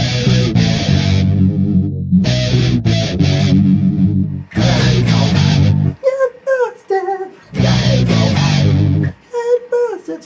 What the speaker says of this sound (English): A vocoder, high definition vocoder in the input, modulating the guitar with a voice in the amp